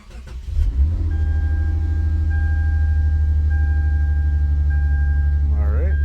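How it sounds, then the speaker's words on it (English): A 2009 Lexus IS250 cranks briefly and catches, then settles into a steady, close idle hum that lasts several seconds, with a faint voice near the end. "And then you start the car."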